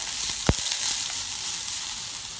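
Steady sizzling and crackling of green chili and ginger sautéing in a hot pan, with a brief clink early on; no voices.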